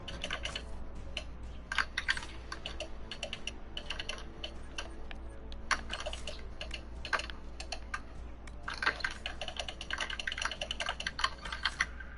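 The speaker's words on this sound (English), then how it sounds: "I hear intense typing." Rapid, intense typing on a computer keyboard during a live group chat, a dense stream of clicking keystrokes with sharper bursts scattered throughout, close and continuous for about twelve seconds over a low background hum.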